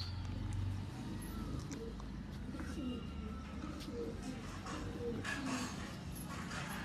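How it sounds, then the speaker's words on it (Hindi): Pigeons coo repeatedly in a low, throaty rhythm, fairly close, over a steady outdoor background with a few faint higher bird calls; someone talks at times. "अब ली, अब आए कबूतर।"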